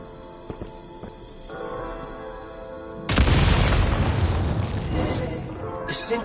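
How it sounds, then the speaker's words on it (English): Explosives detonating in Genshin Impact set off a sudden loud boom partway through, followed by a long rumbling, crackling blast that fades slowly over a steady game soundscape. "Shoot the explosives to detonate them and clear the path"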